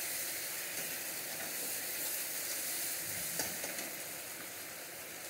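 Ground spices fry for a Bengali doi katla fish curry with a loud, even sizzle that fills the whole clip. A stir or two adds faint scraping and there is no talk.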